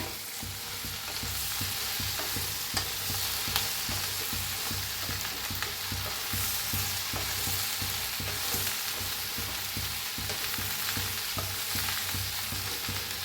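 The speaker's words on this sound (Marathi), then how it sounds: "भेंडीला छान असं भाजून घेऊया" Okra stir-fried in an iron wok in a village kitchen: a steady dense sizzle with rapid rhythmic spatula scraping throughout, close and even, with no one speaking.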